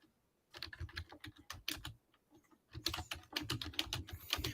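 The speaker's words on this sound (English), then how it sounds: "Sorry, my loud keyboard." Loud computer keyboard typing comes in close, fast clacking bursts, with a brief pause before a denser run of keystrokes.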